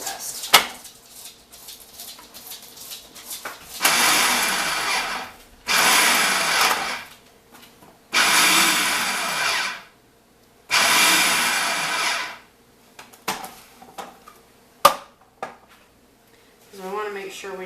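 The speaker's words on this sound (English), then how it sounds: "in the food processor. Okay, so I'll grind these down just a little bit before I add" A food processor grinds fresh basil in short loud bursts, four pulses of about one to two seconds each separated by pauses, with a few clicks and handling knocks between them and at the end.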